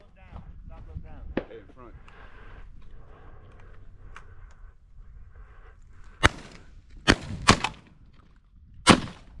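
Several sharp, loud shotgun blasts ring out one after another during a field dove hunt in Lytle, Texas, spaced over a few seconds after a stretch of people talking outdoors.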